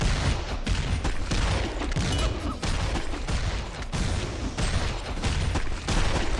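Continuous gunfire in a video game shooter with fantasy dwarf characters, a dense barrage of rapid shots and booms running loud and unbroken throughout.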